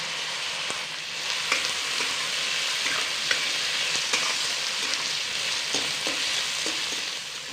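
Onion, tomato and green chillies fry in a pan with a steady, close sizzle, broken by small crackles and occasional stirring clicks, with no voices.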